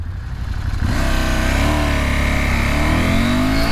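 A 2019 KTM 790 Adventure motorcycle with a parallel-twin engine accelerates hard off the line. The engine note rises steadily as it revs up, loud and close, with no talk over it.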